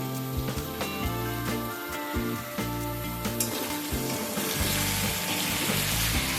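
Chopped tomatoes and onions fry for thecha chicken in a hot pan, giving a steady, close sizzle with crackling and occasional stirring, and no voices.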